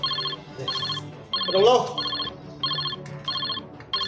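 An electronic phone ringtone in a Barak Valley regional drama plays as repeated short, tonal bursts in a steady rhythm, close and clear, with a brief voice speaking over it midway.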